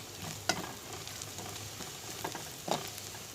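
Onions for a chicken roast sauté in a pan with a steady low sizzle, broken by a few sharp clinks and scrapes of stirring, close and moderately quiet.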